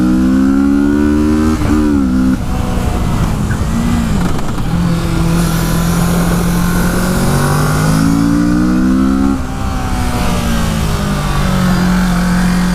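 A 2017 Kawasaki Z650 motorcycle accelerates hard in second gear, its engine note rising loud and close through repeated climbs in pitch with brief dips between pulls, alone without talk.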